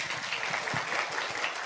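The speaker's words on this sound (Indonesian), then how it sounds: "yang keras tepuk tangannya." Loud, dense clapping from a live audience at an Indonesian business seminar, steady and sustained throughout with no voices above it.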